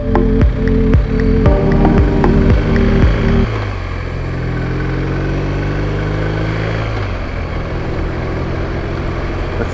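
A BMW motorcycle rides through Marco Island, Florida, its engine thrumming loud and close, then dropping to a lower, smoother drone as the revs fall and settle.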